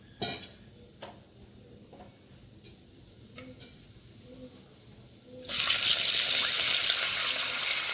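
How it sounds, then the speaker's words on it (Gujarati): Spices tempering in hot oil for a sama (barnyard millet) dish, starting with scattered soft clicks and taps, then erupting into a loud, steady sizzle near the mic that holds to the end. "આપણે મસાલો નાખીને આને વઘારી નાખીએ."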